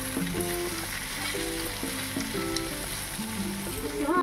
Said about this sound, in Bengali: এবার সবগুলোকে আমি ভালো করে নাড়িয়ে চাড়িয়ে মশলাটাকে কষিয়ে নেব।